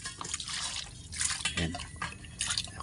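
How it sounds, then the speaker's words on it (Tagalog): Water splashes and trickles in short uneven pours, close by, with a few drips and clinks against a metal pot. "Siyempre, lagyan natin ng konting tubig."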